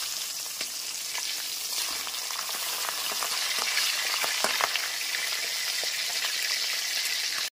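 Pabda fish rubbed with salt and turmeric frying in hot mustard oil, a loud, steady sizzle that fills the clip, with faint scattered spatters and pops.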